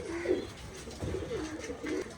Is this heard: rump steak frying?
no